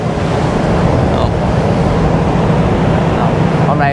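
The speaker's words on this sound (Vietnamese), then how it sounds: "Hôm nay là được ngày vừa sóng, vừa gió, vừa lạnh, lại vừa nắng nữa" Ocean waves and gusting wind at sea aboard a ship crossing the Pacific, a loud continuous wash of surf and wind buffeting the microphone, with a faint voice briefly audible.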